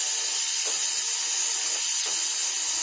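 A small rotary round bur grinds a trough into a bead, a steady high-pitched whine with faint scraping touches throughout, close and continuous with no voices.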